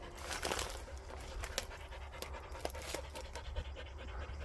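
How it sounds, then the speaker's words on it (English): A dog pants steadily and fairly close at an old farm estate, the quick breathy rhythm running through the whole stretch with a few light scratches and rustles in the background. "That's not me panting, that's just the dog for now."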